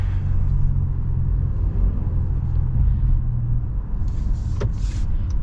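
Cabin of a 2025 Honda Passport with its V6 engine accelerating, a steady low rumble and road noise heard close from inside, with a brief click and faint higher sounds near the end.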